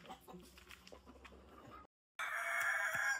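Free-range country hens and a rooster settling in nesting boxes inside a coop, with scattered clucks and rustling before a brief gap, then a loud, dense burst of bright, sustained fowl calls close by.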